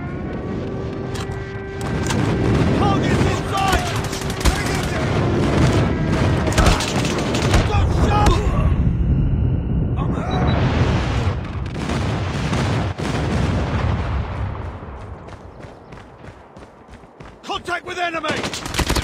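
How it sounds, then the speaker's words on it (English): Call of Duty gameplay with an airstrike: dense loud gunfire and rolling explosion booms in continuous battle noise, with in-game voice callouts over the top. "Friendly airstrike incoming."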